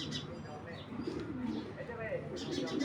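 Racing pigeons at a pigeon farm coo softly in low, rolling murmurs, with a few faint chirps overhead and a voice speaking in the background.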